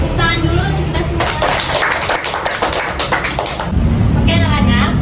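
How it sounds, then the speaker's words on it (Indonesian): Primary school pupils clap their hands together in a classroom after singing, a dense burst of clapping lasting a couple of seconds between stretches of someone talking. "Tepuk tangan dulu untuk kita semua."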